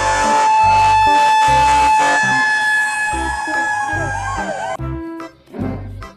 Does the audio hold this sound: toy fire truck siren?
yes